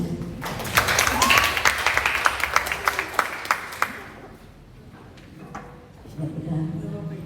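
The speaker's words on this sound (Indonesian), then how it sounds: "berikan tepuk tangan bagi para pemain musik" A church congregation at a Sunday worship service with Holy Communion claps for the musicians; dense, lively applause for about four seconds, thinning out and fading, with voices talking over and after it.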